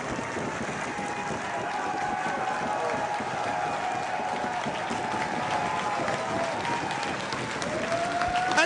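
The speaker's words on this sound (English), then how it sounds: "there's nothing that we can say that the crowd isn't already saying" A wrestling crowd roars and cheers in a continuous wash of excited noise, with shouts and whistles rising from the arena mass.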